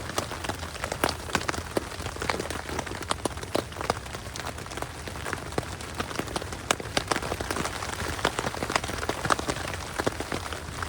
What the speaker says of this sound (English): I got woken up to the rain.